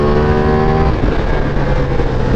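Ducati Diavel V4 motorcycle engine pulling hard out of a corner, a loud, steady, close roar with rising harmonic tones that then blur into a rough, continuous growl, no voices.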